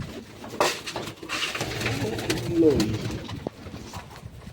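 Pigeons coo softly and repeatedly in a loft at feeding time, low murmuring calls rising and falling against a faint rustle of wings and background noise.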